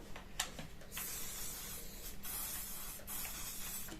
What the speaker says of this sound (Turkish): saç spreyi sıkacağım üstüne